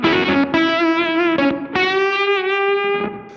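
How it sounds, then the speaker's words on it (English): An electric guitar runs through a vintage Fuzz Face combined with a Beetronics Abelha octave fuzz on a gated setting, giving loud, buzzy sustained notes with a bright octave shimmer and short choppy breaks, alone without talk. "weird octave thing going on. And that's the Beetronics sauce I was talking about."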